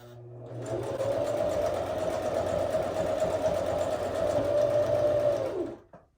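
A sewing machine runs continuously, stitching coiled rope into a bowl with a steady, close mechanical whir that stops abruptly near the end.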